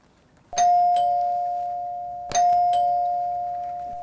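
A newly installed doorbell button sets off the chime twice, each press giving a clear two-note ding-dong that rings out and slowly decays in a quiet room.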